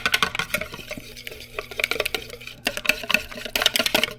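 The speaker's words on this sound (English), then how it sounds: "we whisk that together" A whisk beats egg whites for a lemon meringue pie in a bowl, with rapid irregular clattering strokes that pause briefly and then resume, close and fairly loud.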